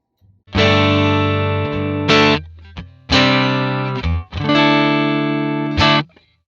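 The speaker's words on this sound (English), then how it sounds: "let's start with just the amp and the mono cab." A distorted electric guitar through an amp and mono cabinet plays three long sustained chords, loud and up front, with short gaps between them.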